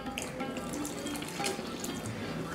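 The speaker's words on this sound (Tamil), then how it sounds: "அடுத்து பால் ஊற்றணும் மேடம்." Milk being poured into a pan of moong dal payasam with jaggery, a steady close liquid splashing and gurgling pour lasting a couple of seconds, no one speaking over it.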